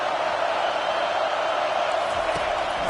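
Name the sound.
football stadium crowd cheering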